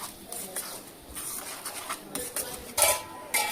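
Chicken dalia khichuri is stirred in a cooking pot, giving close, soft scraping and clinking of a utensil against the pot in an irregular rhythm.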